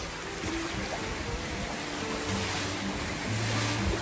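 Ocean waves and rushing water around a sailboat sailing solo off Vancouver Island at 7 to 10 knots: a constant, close wash of surf and wind with low hull rumbles, no voices.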